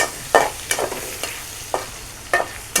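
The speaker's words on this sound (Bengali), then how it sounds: "পেঁয়াজ কুচি, রসুন কুচি, এইভাবে একটু ভেজে নেব।" Chopped onion and garlic fry in oil, a low steady sizzle punctuated by about six sharp spatula scrapes and stirs at irregular intervals, close and clear.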